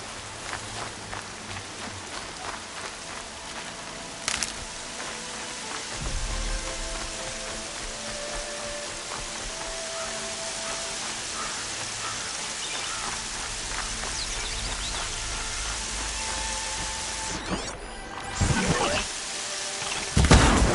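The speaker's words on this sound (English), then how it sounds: "Rain's not so bad." Continuous rainfall pattering on surfaces in the Horizon Zero Dawn video game, a steady wash of drops with occasional low rumbles and a few louder bursts toward the end.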